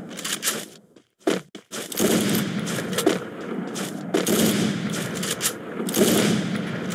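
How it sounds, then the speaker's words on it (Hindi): Rapid bursts of gunfire in the mobile battle royale game Free Fire MAX, sharp cracking volleys separated by brief gaps, loud and close, with no talking over them. "अच्छा गोली चलाई मैंने"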